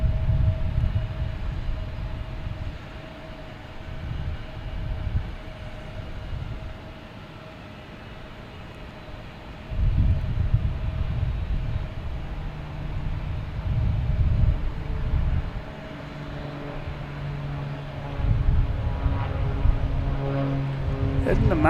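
A Cessna takes off at Boston Logan Airport, heard as a steady, fairly loud engine rumble and drone that swells and eases, with people talking nearby over it.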